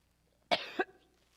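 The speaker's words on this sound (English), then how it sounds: "I'm trying not to cough into this" A single sharp cough, close and fairly loud, with a brief second burst at its tail, in a quiet room during a church service.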